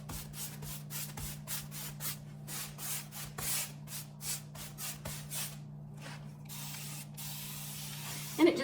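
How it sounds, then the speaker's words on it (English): Quick bursts of a spray bottle misting a paintbrush, a dozen or so rapid pumps in an uneven rhythm, close up over a steady low hum. "When you re-wet your brush with a spray, it reactivates that paint that's on there."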